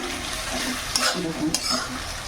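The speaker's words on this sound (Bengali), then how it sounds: "পেঁয়াজ ভাজা চাপিয়েছি" Onions frying in a pan give a steady close sizzle while a utensil stirs and scrapes them, with a couple of brief clinks of metal on the pan.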